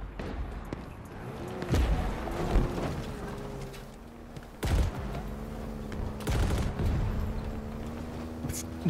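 Turret fire in multiplayer Halo Infinite: heavy booming shots hit in a few distinct bursts, including one sharp loud blast near the middle, over a humming vehicle engine drone.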